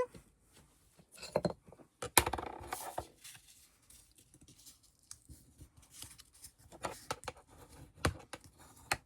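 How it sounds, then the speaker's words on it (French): Paper folds for a scrapbook advent calendar being creased by hand, giving quiet scraping and rubbing strokes in short irregular bursts, close to the listener. "Alors, je marque vraiment bien mes plis."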